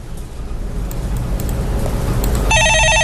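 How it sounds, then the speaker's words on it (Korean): In the last half-second, a telephone starts ringing with bright, pulsing tones at a broadcast stock-market call-in desk. Before the ring, there is a continuous low background rumble. "전화 받아보겠습니다."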